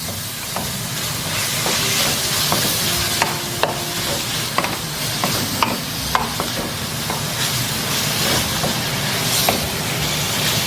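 Shrimp cooking in a pan for ampalaya in oyster sauce, with a steady loud sizzle and hiss and repeated scraping stir clicks of a utensil, and no talking.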